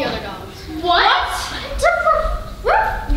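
On a theatre stage, an actor imitates a dog with a series of three vocal yips and whimpering barks, each rising then falling in pitch, spaced about a second apart and fairly loud.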